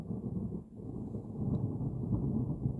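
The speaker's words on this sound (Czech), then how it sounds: "ta bouřka je přímo za tím kopcem" Thunder from a close, strong spring thunderstorm in Czechia rumbles deep and heavy, a sustained low roll that swells and lingers without any voices.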